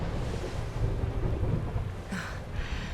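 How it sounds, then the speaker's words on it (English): Thunder rumbles through a storm in Dragon Quest 11, a continuous low roll with rain noise underneath and a brief sharper crack near the end. "Would you look at it thundering away out there?"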